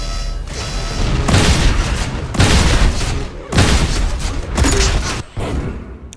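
Rocket launcher blasts in Unreal Tournament during a competitive match, several loud booming explosions in successive waves, each with a long rumbling decay, close and dominant.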